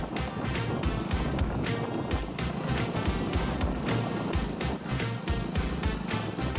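A boat ride on the water at Chandil: a continuous, dense rush of motor and water noise with a steady, moderately loud wash and no clear speech.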